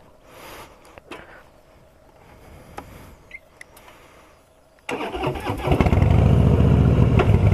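A Harley-Davidson Softail Slim motorcycle is started after a few seconds of quiet shuffling and faint clicks, then settles into a loud, deep, rumbling run close by, with no talking.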